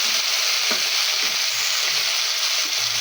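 Vegetables sizzle and fry steadily in a hot pan as pumpkin, ridge gourd and pointed gourd go in for an Indian white vegetable curry, with a few soft stirring knocks over a continuous loud crackle.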